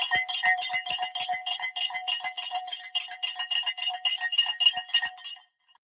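A stock market closing bell played back from a video, its rapid metallic clanging repeating steadily for about five seconds and then stopping abruptly, loud and heard alone.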